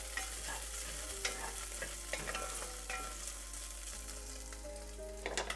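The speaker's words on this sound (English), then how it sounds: "The pork is cooking along quite nicely." Pork belly frying in a pan, rendering fat with a steady, loud sizzle while a utensil scrapes and clatters as it is stirred, close up and without speech.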